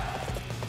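Horse hooves clop steadily at a gallop in Dynasty Warriors 8 Empires, a continuous rhythmic run of close, even beats with no talk.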